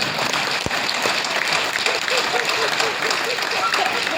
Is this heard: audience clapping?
yes